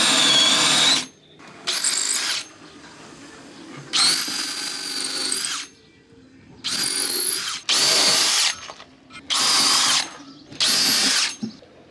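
A power sander works on an old catamaran under restoration. It runs in about seven loud, close bursts of one to one and a half seconds each, separated by short quiet gaps.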